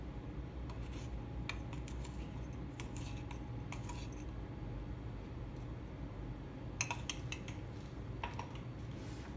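Baking powder being mixed into chocolate butter cake batter, with faint scattered scraping and tapping of a utensil against a bowl in quiet, irregular bursts.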